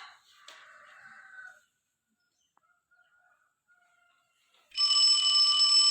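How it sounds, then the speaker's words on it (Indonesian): A school dismissal bell rings loudly and steadily near the end, a bright electric ring following a quiet stretch after a shorter buzzing tone at the start. "ternyata bel pulang sekolah sudah berbunyi"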